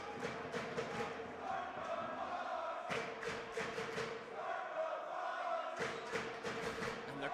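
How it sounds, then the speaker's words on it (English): A basketball crowd chants at a national championship game between Ridley College and Knights, a loud, rhythmic chorus of voices rising in repeated bursts, with thuds from the court underneath. "And the crowd chanting, "Start the bus.""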